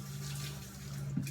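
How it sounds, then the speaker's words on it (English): Running tap water rinses a knife, a soft steady stream of faint splashing that carries on unbroken for a moment, with no voices. "then I'm going to rinse my knife off really quickly"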